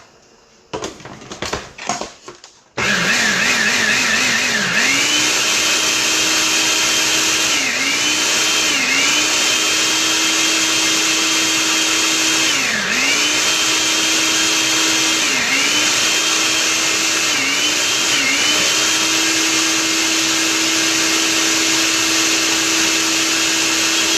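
Food processor blending spinach and avocado sauce: after brief handling noise, a loud, close motor whine runs steadily, its pitch dipping briefly every few seconds as the thick green mixture loads the blade.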